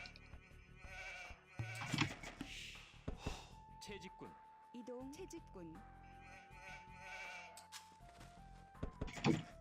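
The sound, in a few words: sheep bleating in the video game Age of Empires 2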